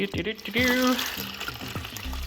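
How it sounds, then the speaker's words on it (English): Water is dumped onto Natrosol powder and stirred for slime, a short liquid splash and sloshing heard faintly beneath a voice that talks over most of it. "And then you just dump the water right in and start mixing away."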